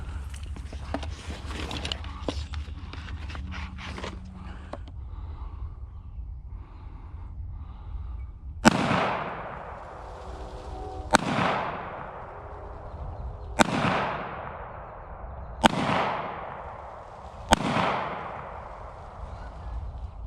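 Taurus G3C pistol fired outdoors: five sharp, loud shots spaced roughly two to three seconds apart, each with a decaying echo, after a stretch of quieter handling noise and faint background sounds.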